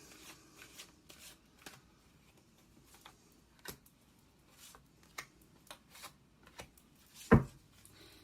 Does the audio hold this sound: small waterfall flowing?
no